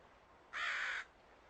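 A single harsh crow caw, loud and close, lasting about half a second against quiet background noise.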